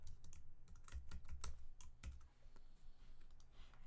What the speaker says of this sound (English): So I'm just going to type in message box,